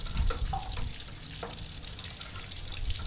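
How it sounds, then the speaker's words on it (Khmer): Water poured into a pot of tamarind fish sauce and stirred, a soft continuous watery wash with light splashes and a few clinks, fairly quiet and without talk. "ហើយចាក់ទឹកចូលហើយយើងកូរវា"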